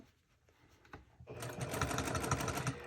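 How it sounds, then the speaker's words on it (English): A sewing machine backstitching a seam on a boho purse starts after a few quiet clicks and settles into a steady, fast mechanical whir close by. "Now I am going to backstitch here because I don't want any loose strings hanging out"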